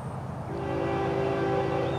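Freight train FEC109 hauling auto racks rolls past in the morning, a loud, steady rumble with a sustained tonal hum from the passing cars.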